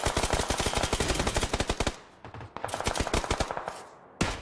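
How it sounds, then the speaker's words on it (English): Rapid automatic gunfire in the shooter PUBG, dense bursts of loud, close shots in quick succession with a brief pause, then more bursts and a final single crack. "Getting shot at from the left."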